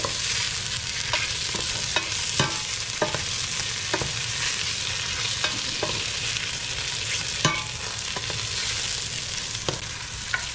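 Garlic sizzles steadily in a hot pan as it browns, with a dense, even frying hiss punctuated by repeated clicks and scrapes of stirring, close and without talk.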